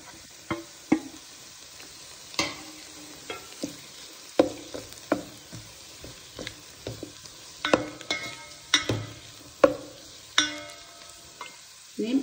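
Chicken and scrambled egg being stir-fried for chicken fried rice, with repeated sharp spatula scrapes and clacks in an irregular rhythm over a steady close sizzle.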